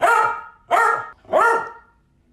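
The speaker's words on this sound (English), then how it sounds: "She's like, oh, she's barking, so I should bark also." Several dogs, among them an elderly 14-year-old corgi, bark in three loud, close, sharp bursts spaced about evenly, each ringing out before the next.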